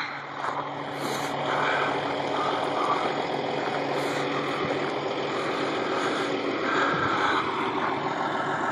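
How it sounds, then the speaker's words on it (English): A roll-off truck tractor idles steadily after picking up an empty 40-yard container, its engine giving a continuous low diesel rumble, close and fairly loud throughout with no talking. "Tractor running."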